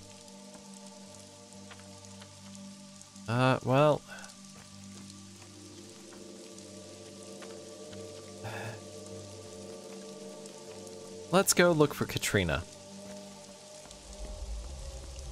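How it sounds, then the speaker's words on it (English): Soft, steady rain hisses faintly in the video game Pathologic 2, running beneath sustained game music, while someone speaks briefly twice. "Wow, it's actually raining."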